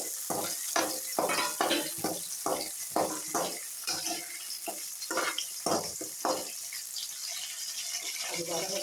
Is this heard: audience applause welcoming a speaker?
no